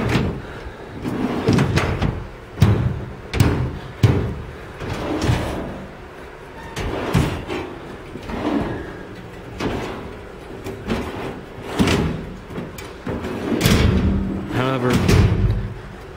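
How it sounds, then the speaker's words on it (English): Metal drawers of a Kennedy 4400MP Maintenance Pro tool cabinet slide open and shut repeatedly, giving a series of rolling glides and thuds as someone talks throughout. "All the drawers other than the top will open pretty smoothly."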